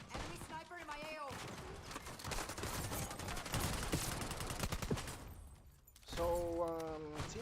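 Rapid automatic gunfire in a Black Ops 6 match on Nuketown, quiet and continuous bursts of rattling shots mixed with game sounds, with a person talking over them.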